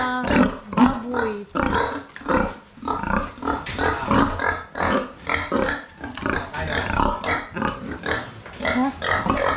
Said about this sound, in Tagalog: Nag-iiyakan po yung mga baboy.